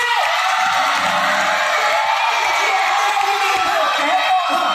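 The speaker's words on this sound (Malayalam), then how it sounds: "ഇനി ആ ചേട്ടന്മാരെല്ലാം ഒന്ന് കൈയടിച്ചേ" A stage show audience at a church event in Perumbavoor cheering and whooping, a dense, loud crowd roar held steady throughout with shouts rising over it.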